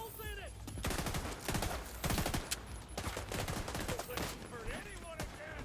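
Gunfire in the video game The Division 2: dense rapid volleys of shots in long bursts with short gaps, loud and close, with faint game voice chatter under it.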